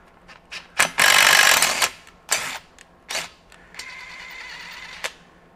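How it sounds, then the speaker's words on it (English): A cordless impact driver spins a thread chaser into a hole in bursts: short whirring pulls and rattling hammering, one longer loud run, then a steadier lighter buzz, close and unaccompanied by talk. "And I'm going to take my impact driver."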